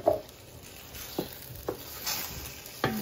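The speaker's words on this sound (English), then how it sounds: "And give that a stir." Onions and jarred garlic sizzle steadily in a pan, broken by several scraping stirs of a utensil against the pan, close and alone.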